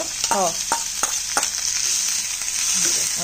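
Crushed garlic and onions fry in hot oil in a pan while being stirred, a constant close sizzle with scraping strokes and a few brief voice sounds mixed in.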